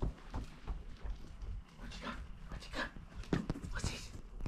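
A dog pants in quick, uneven breaths close by, with a few rustles and a brief whimper-like sound mixed in.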